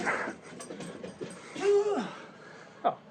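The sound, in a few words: dog panting and whimpering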